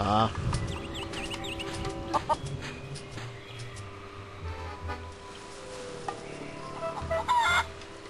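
Chickens cluck and a rooster crows in The Curse of Monkey Island, the bird sounds close and repeated over game ambience while a voice talks at times.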